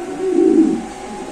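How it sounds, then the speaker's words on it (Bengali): A male show-king pigeon gives one close, loud, low cooing call that swells and fades over about a second. "এখানে আছে একটা শোকিং নর কবুতর"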